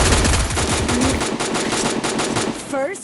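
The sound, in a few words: gunfire in video game Free Fire Max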